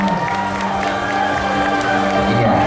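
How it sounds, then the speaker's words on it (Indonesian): Crowd cheering and applauding at a Palembang city event honoring the street-cleaning crew, a steady, loud wash of claps and shouts with a low hum and tonal noise underneath throughout. "kita beri tepuk tangan"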